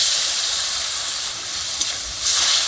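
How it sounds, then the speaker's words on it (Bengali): Grated tomato paste fries in hot oil with a loud, steady hiss that swells again toward the end, close by and without any voices. "টমেটোর পেস্ট দিয়ে আমি হালকা করে ভেজে নিচ্ছি"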